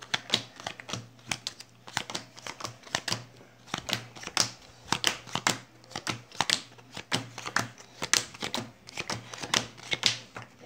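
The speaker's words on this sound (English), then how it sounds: "I'm gonna give it a good shuffle." A deck of playing cards being shuffled during a card trick, quick crisp riffles and snapping flutters repeating in close bursts, sharp and near, with no voices over them.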